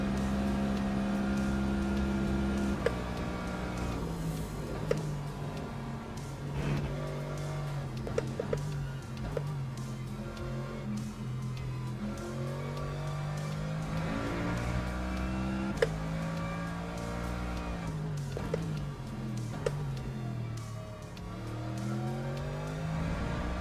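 A Porsche GT3 race car engine drones steadily through track testing, rising and falling in pitch as it accelerates and brakes into corners, loud and continuous from start to finish.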